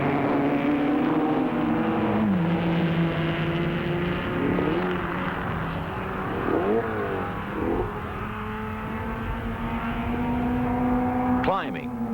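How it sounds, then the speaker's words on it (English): Sports racing cars roar through the Sicilian mountain roads of the 1961 Targa Florio, engine notes rising and falling steadily under a narrator's voice, with one car sweeping sharply past near the end. "This is sports car racing under the Federación Internacional del Automobile."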